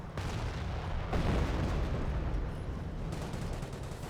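Priest artillery barrage in the Company of Heroes strategy game: a dense, continuous rumble of distant shell impacts and blasts with a heavier surge partway through, sustained throughout without speech.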